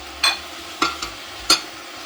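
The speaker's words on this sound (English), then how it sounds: "I'm just going to stir that together and add in my slurry" A spoon stirs strawberries, blackberries and sugar in a pot, giving three short, separate scraping clinks against the pot with quiet pauses between them.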